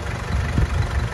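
A vintage car engine idles nearby, a low, steady, slightly throbbing hum with small wavering pulses and no speech.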